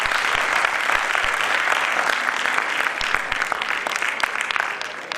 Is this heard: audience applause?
yes